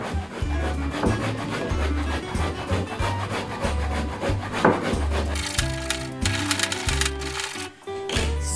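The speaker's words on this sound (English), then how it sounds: "So we're done for grating our cassava." Cassava is grated by hand on a grater, a close, rhythmic scraping of strokes repeating about twice per second, rough and continuous throughout.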